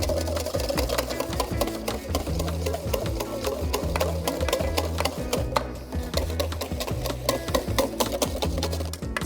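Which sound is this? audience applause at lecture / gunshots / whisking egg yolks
whisking egg yolks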